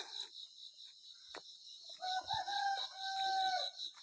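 A rooster crows in a drawn-out call with some clucking, faint and somewhat distant, over a steady background of chirping insects.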